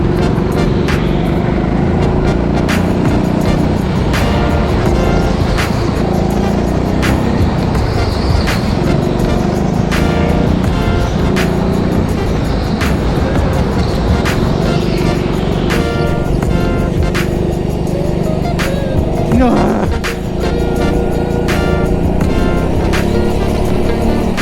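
A go-kart engine revs and accelerates on a track, a steady loud drone that rises and falls with the throttle and continues for the whole stretch, with a voice briefly over it.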